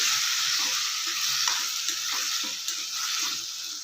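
Tamarind juice is stirred into a simmering North Karnataka-style green chilli chutney in a pan, giving a steady bright sizzle with soft, repeated stirring scrapes underneath and no speech.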